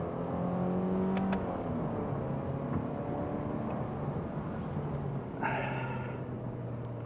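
A 2024 Subaru Impreza RS pulls away slowly under manual paddle-shift control, a steady engine drone with a rising tone inside the cabin, and a brief whir-like change near the end as it shifts.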